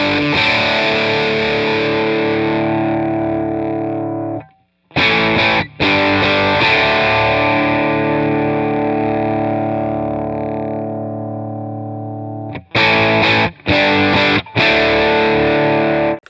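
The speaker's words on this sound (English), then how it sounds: "I'm going to slowly crank up the voltage and you can hear the differences" Electric guitar played through a Lancaster Audio Nobels ODR-1 overdrive plugin with its voltage turned up, loud sustained distorted chords ringing for several seconds, a brief gap, then a burst of short choppy stabs.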